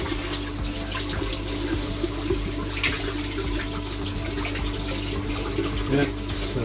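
Liquid pond treatment is poured and stirred into garden pond water, giving a steady close wash of splashing and swirling with low hum beneath throughout.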